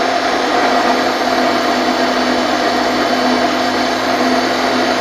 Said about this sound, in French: voici un petit exemple de la scie à ruban métal